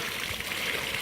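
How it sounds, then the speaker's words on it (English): An Intex pool water fountain runs in the backyard, with a steady, soft splashing and trickling of falling water, continuous and fairly quiet with no talk. "got the water fountain running"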